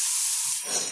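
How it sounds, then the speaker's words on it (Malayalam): Salt water streams into a cooking pan with a steady, bright hiss that shifts slightly as the pour ends. "അല്പം ഉപ്പുനീരും ഒഴിക്കാൻ"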